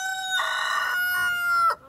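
A single rooster crows nearby, a clear, strained cock-a-doodle-doo that stops abruptly.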